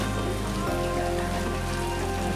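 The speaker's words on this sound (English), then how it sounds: "the heavy rain that's falling" Heavy warm rain pours steadily during a cycling trip from Bangkok to Penang in Southeast Asia, a dense, continuous wash close by with a low constant hum and no voices.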